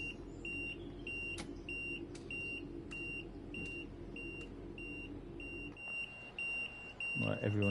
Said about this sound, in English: So that beeping sound is just basically me because I left the train in forward